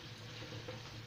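Garlic sizzles softly in a pan as the base for a lamb tagine, a faint, steady frying crackle over a brief moment.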